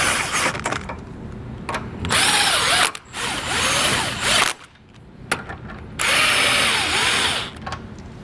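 A power tool drives bolts while mounting a Stealth Hitches hidden trailer hitch receiver to a vehicle, whirring in several loud bursts of a few seconds each, separated by short pauses and clicks.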